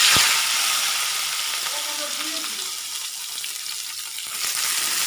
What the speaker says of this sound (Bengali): ওই যে চুলায় মরিচ দিয়েছি